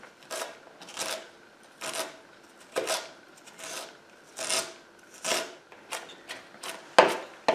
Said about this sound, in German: Und schneide ihn jetzt in Streifen.